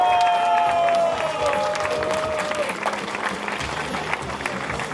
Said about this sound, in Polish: te brawa teraz są tylko dla Was